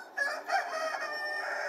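A Luong Phuong rooster crows once nearby, a clear, drawn-out call with a sharp rise at the start, heard alone without any voices.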